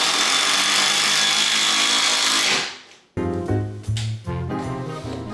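A power driver runs heavy floating shelf brackets into the side of a wall stud, with the drywall removed. A long, loud whirring run winds down and stops, then several short, close buzzing bursts follow, with no talking.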